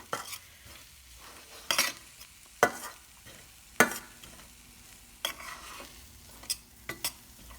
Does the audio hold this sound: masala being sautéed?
yes